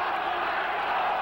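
Loud roaring crowd at a boxing match, a dense continuous cheer with no breaks, filling the whole moment.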